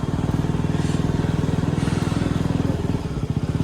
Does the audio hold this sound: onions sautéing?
no